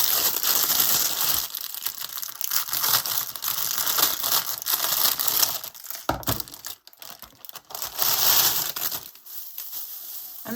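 Crinkly plastic packaging being cut open, giving loud, close crackling and crumpling that runs almost continuously, with brief snips and rustles and a short pause near the end, no speech.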